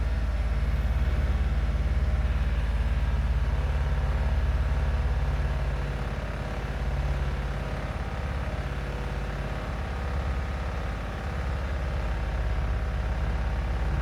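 A Honda Acty's small engine idles with a steady, low, continuous rumble that settles slightly quieter partway through, heard close and with no talking.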